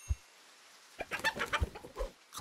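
A cartoonish chicken clucks in a short burst of clucking from the Super Auto Pets video game, set between soft thumping game effects.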